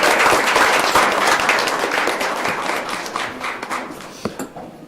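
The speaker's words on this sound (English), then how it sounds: "A big round of applause for Jordan." A room full of people clapping for Jordan at a school board meeting, loud and close at first, then gradually thinning out and tapering off into scattered final claps.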